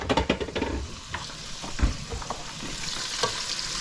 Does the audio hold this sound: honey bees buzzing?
no